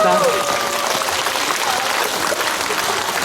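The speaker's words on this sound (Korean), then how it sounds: "박수 부탁드립니다." An audience at a live cinema event in Yeongdeungpo, Seoul applauds, dense and loud clapping filling the whole stretch, with a brief voice heard at the very start.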